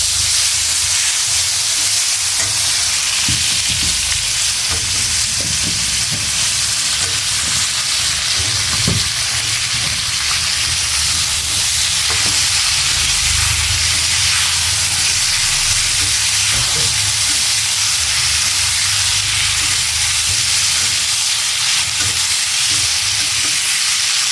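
Eggplant frying in hot oil with dried fish gives a loud, steady sizzle and hiss close up, with faint stirring knocks and no talking.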